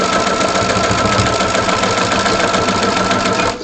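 A sewing machine runs steadily at full speed stitching a seam across fabric, a loud continuous whirring drone that holds evenly for several seconds before easing off at the very end, with no talking.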